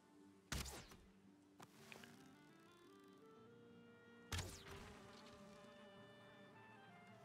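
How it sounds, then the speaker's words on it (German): Bees buzz steadily in the video game Valheim, a continuous insect drone with a couple of louder passes sweeping close, no talking over it. "Ah, auf jeden Fall nochmal ein paar Bienen."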